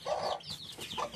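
Chickens and young roosters on a small farm cluck in short overlapping bursts close by, a steady poultry chatter with no voices over it.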